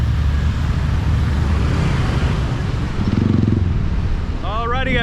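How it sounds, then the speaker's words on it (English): Steady road traffic in Canggu, Bali, a dense continuous rumble of cars and motorbikes close by, with a voice talking briefly near the end. "Traffic."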